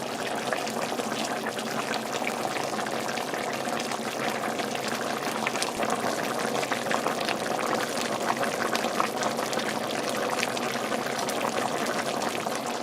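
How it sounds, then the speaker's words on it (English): Chicken stews uncovered in a pot, reducing in its own juices, with a steady bubbling and sizzling simmer that keeps on evenly up close and without talk. "I just took the cover off and I'm gonna let it reduce a little bit"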